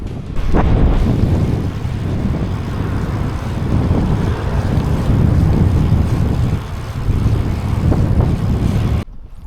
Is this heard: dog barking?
no